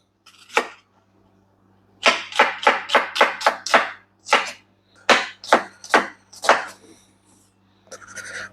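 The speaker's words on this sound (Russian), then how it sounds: "Можно нарезать лук" A knife slices an onion into half rings on a cutting board: about a dozen crisp, evenly spaced chops, close and loud, with a low hum underneath.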